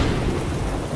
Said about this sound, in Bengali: শুরু হলো মুহুর্মুহু বজ্রপাত আর বৃষ্টি